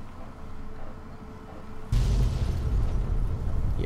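Loud, close gunfire and blasts in Fallout 3, starting abruptly partway through as a heavy booming burst that rolls on over a low background hum, with no talk.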